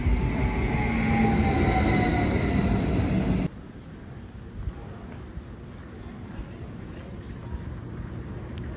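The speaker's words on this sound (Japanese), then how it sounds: "まさかの電車が途中で止まった。" A commuter train rumbles loudly along the rails with steady wheel noise, then the sound cuts off sharply to a much quieter, low background hum as it stops.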